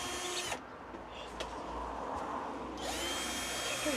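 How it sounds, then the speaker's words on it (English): Power drill unscrewing panels inside a campervan: a loud high whine starts, drops to lower grinding and rattling as the screw turns, then the motor revs up again, close to the listener. "let's start unscrewing all the panels off"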